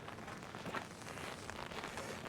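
Freezing rain patters steadily on an umbrella during an ice storm, a faint, even hiss of drops held close overhead.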